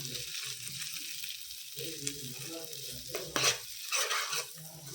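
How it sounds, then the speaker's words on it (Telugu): Ginger garlic paste sputters and sizzles in a hot pan while being stirred for an egg curry, a continuous frying hiss with scraping stirs and a few sharper crackling bursts, close up. "అల్లం వెల్లుల్లి పేస్ట్ కొంచెం పచ్చివాసన పోయేంత వరకు అయితే వేంపాలి."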